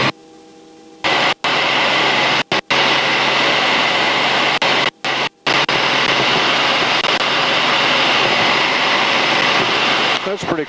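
Robinson R44 helicopter in flight over Chicago, a loud steady cabin drone of engine and rotor filling the whole clip, with brief dropouts and a rising whine near the end.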